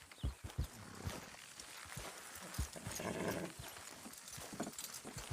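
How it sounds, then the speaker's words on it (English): Horse hooves clop unevenly under a low, rumbling strain as horses haul a load in the Red Dead Redemption 2 video game, the steps close and irregular over a muffled bed of noise. "Horses will pull it clean down."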